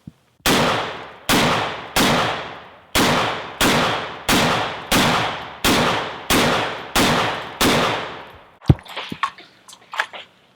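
A Mini-30 rifle fires Wolff 122 grain steel-case ammo, ten loud evenly spaced shots with ringing decays, followed by a couple of clanks and clicks as the action is handled.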